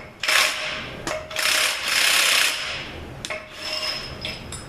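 A big socket on a ratchet works a large nut loose during a 42LE transmission teardown, with raspy turning bursts and short pauses between strokes, close and fairly loud.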